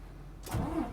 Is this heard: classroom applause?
no